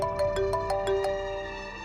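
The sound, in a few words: phone ringtone, incoming call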